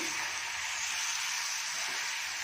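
Onion, tomato and brinjal frying together in a pan for vangi bath, a steady broad sizzle holding evenly throughout with no voices.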